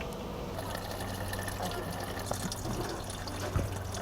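Cannabis extract mixed with alcohol and oil is poured, giving a soft, faint liquid trickle and splash against a background hum, with a small clink near the end.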